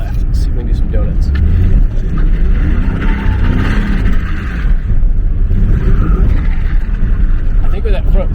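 A Mustang drift build's engine roars loud and close as the car tries to spin donuts, with a sustained, wavering drone that rises and dips throughout.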